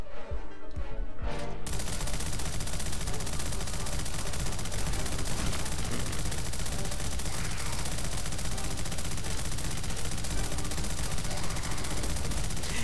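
Sustained machine gun fire from the video game Hellmut: The Badass From Hell, a dense, unbroken rattle of rapid shots that stays loud and close for the whole stretch after a short opening lead-in.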